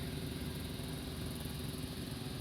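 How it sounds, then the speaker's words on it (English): A tractor drives down a drag strip, cleaning spilled coolant off the track; its engine gives a steady, fairly distant rumble with continuous broadband noise and no talk. "See that tractor going down the track?"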